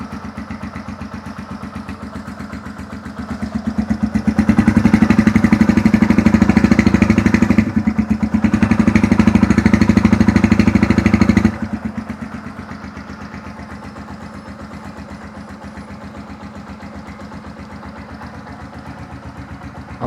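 2008 Yamaha Scorpio Z motorcycle engine idling with a steady rapid putter, revving louder for a few seconds twice in the middle, then settling back to idle, no talk.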